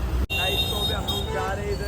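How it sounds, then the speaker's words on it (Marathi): Busy road traffic near a Kalyan Koliwada street, a steady roadway rumble with passing engine tones, fairly close, running under talk with a brief dropout early on. "ट्रॅफिक आहे बहुत"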